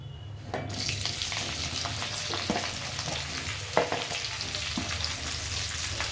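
Stuffed okra dropped into hot oil with frying mustard seeds, cumin and turmeric, a loud continuous sizzle broken by scattered pops, crackles and stirring clicks.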